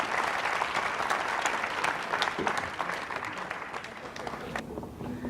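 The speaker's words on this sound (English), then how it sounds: "a big round of applause before we get into this round" Applause from a quiz show audience at a national final fills the room: dense, steady clapping from a crowd with some voices mixed in, which thins out near the end.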